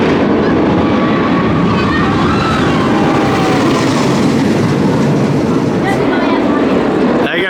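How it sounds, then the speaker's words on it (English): The Union Pacific Railroad park train at PortAventura passes close by, a loud steady rumble with clattering wheels and squealing tones, while people talk over it amid theme-park noise. "There goes the Union Pacific Railroad here at PortAventura, the train that takes you around the park."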